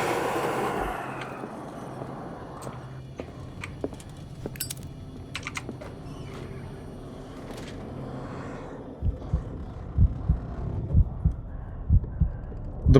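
Heartbeat effect in the horror game Call of Cthulhu: after a murky, rumbling ambient stretch, a steady run of deep, loud thumps pulses close up in a regular rhythm through the final seconds.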